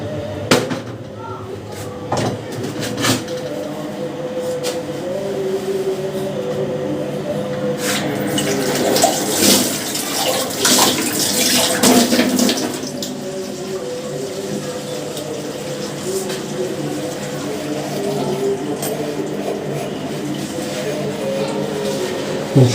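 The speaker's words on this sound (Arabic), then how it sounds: "نبدا بقى ايه نغسل الازاز" Tap water runs steadily into a kitchen sink while glassware is washed, with a continuous splashing rush, occasional clinks and knocks, and a voice faintly audible at times.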